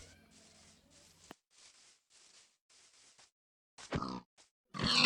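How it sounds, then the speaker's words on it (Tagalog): Pig grunts and squeals from a pig being killed in a survival video game, a few short harsh bursts near the end after quiet, scattered clicks and faint noises, no talk. "At may nakita akong baboy, pinatay ko na rin to."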